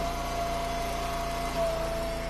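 A log splitter's engine runs at a steady pace while rounds are split, a constant droning hum with a faint whine and no speech.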